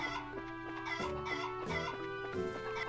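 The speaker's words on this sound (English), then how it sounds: "What the hell's with the chickens, though?" Chickens cluck and squawk repeatedly over a steady musical backdrop, with bursts of clucking at irregular intervals, in game audio from The Legend of Heroes: Trails in the Sky SC.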